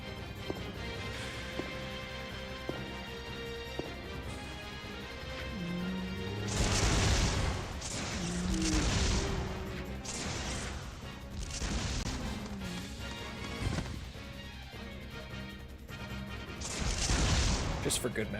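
Repeated heavy blasts from a linear launcher and the explosions that follow, all in Resident Evil gameplay. They come in bursts over a steady music bed, loud and booming, with roughly four or five big impacts spaced a couple of seconds apart.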